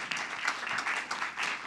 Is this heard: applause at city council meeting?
yes